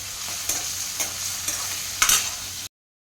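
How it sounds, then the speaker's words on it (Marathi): Finely chopped onion with cumin seeds sautés in a pan, a steady close sizzle broken by several light stirring scrapes before cutting off abruptly. "त्याच्यानंतर बारीक चॉप केलेला कांदा, छान परतून घ्यायचा आहे"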